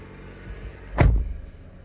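A 2021 Toyota RAV4 Adventure engine cranks and catches with one short burst near the middle, then settles back to a low rumble, close by.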